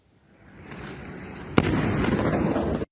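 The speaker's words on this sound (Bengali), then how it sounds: "বিকট শব্দে মিসাইল বিস্ফোরণের এই দৃশ্য ইসরায়েলের" A missile explodes in Israel: a sharp, loud blast cracks out, then a heavy rumbling roar sustains for over a second before cutting off abruptly. No voices.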